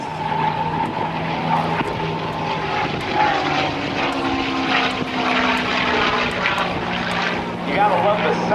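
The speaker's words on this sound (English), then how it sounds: "You gotta love the sound of that V12 engine." P-51 Mustang with its V12 piston engine flying past at a naval air station airshow, a loud droning propeller roar sustained overhead while an announcer talks.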